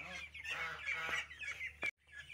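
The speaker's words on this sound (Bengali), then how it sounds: "এই তো আমার হাঁসের বাচ্চাগুলো, তো ওরা এখন বের হবে। তো বের হওয়ার জন্য ওরা খুব চিল্লাচিল্লি করতেছে।" Young ducklings call loudly and insistently, a cluster of overlapping honking peeps close by, with a short gap near the end.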